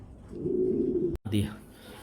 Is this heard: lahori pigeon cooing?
yes